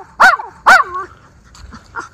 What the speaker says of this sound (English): He's such a happy dog.